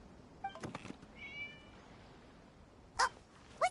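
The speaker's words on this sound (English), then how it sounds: "It was just a cat." A cat in the video game Genshin Impact gives a couple of short meows, the first cluster faint and the last two sharper, brighter calls close together near the end, over a quiet background.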